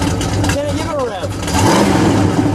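A 1969 Plymouth Road Runner A12 with its original engine revs up from idle into a loud, rising blip, with people talking over it.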